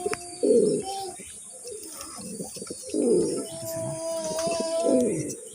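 A large male colored Gola pigeon coos close by in repeated throaty, rolling bursts, about three phrases with short pauses between them.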